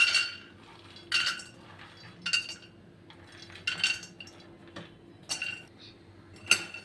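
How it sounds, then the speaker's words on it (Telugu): Peanuts roasting in a pan on the stove, sharp clinks and scrapes as they are stirred and tossed against the metal, coming in separate bursts over a low steady hum. "ప్యాన్ పెట్టి ఫస్ట్ పల్లీలన్నీ రోస్ట్ చేసుకుందాం"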